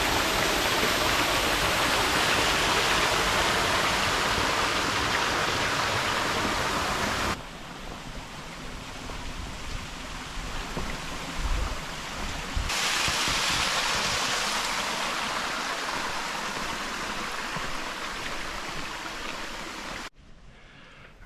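Waterfall along the Pine Mountain Trail at Slippery Rock or Cascade Falls, a constant rushing roar of falling water that dips slightly partway through and then cuts off near the end.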